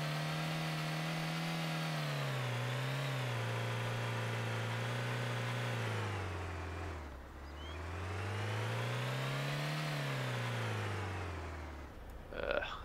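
In the DayZ Mod game a car drives on a road, its mid-pitched engine droning steadily and rising and falling as it revs, with a dip partway through and a brief knock near the end, no voices.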